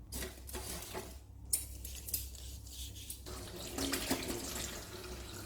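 Brass lamps being scrubbed and rinsed under a running tap in a home sink, with a steady splash of water and faint clinks of metal throughout, no talking.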